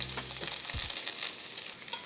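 Lamb chops searing in a hot skillet, a steady crackling sizzle with one brief scrape or shift of the meat, close up and without any voices.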